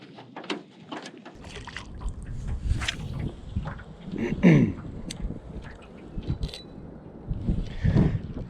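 Gusts of wind buffet the microphone in uneven rumbling bursts, with water sloshing and small knocks nearby, and no clear speech.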